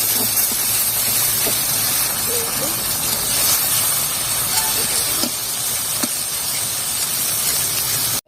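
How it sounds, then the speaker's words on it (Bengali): A ground cumin and coriander paste fries in a pan for chicken curry, giving a loud, continuous hiss with a few faint clinks scattered through it. "এবার আমি ভালো করে মশলাটা কষিয়ে নেব।"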